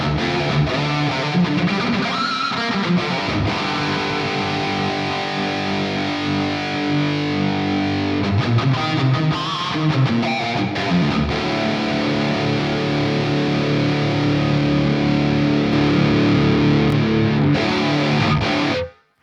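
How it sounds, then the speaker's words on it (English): Electric guitar runs through an ML Sound Lab AMPED Block Letter amp sim with stereo reverb, playing heavily distorted, sustained chords and riffs continuously and loudly for nearly twenty seconds before cutting off abruptly, with no talking. "Now we have our stereo reverb."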